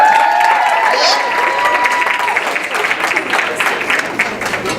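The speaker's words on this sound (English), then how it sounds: "Can I get another clap for her?" Audience applause at a live performing arts show following a singer's performance, a dense sustained clapping from a full crowd with some cheering, loud and close throughout, with faint talk mixed in.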